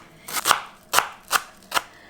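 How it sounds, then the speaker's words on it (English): A knife chops fresh coriander on a cutting board in a home kitchen, four crisp close strikes landing at an uneven pace with brief scraping between them. "once I've chopped it up, it'll come out to about 1/4 cup of coriander chopped up"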